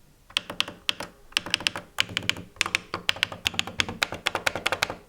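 Cheap, plasticky media control buttons on a Logitech G613 wireless mechanical keyboard are pressed in quick irregular bursts, close up, giving light hollow clicks and taps with no talking.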